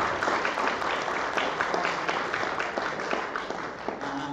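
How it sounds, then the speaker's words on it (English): A school audience at a college music fest gives dense, sustained applause, many hands clapping at once in a steady roar that holds evenly throughout with no talking. "Give them a huge round of applause,"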